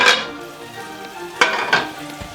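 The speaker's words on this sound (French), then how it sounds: "On fait fondre le beurre." Butter melts in hot pans with a soft, steady sizzle, broken by a few scraping stirs and light clinks of utensil against metal, close by and without voices.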